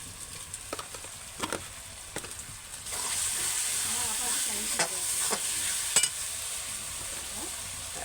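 Ginger being stirred in a hot frying pan, a steady frying sizzle swelling midway, punctuated by several sharp scraping clicks of a utensil against the pan, close by.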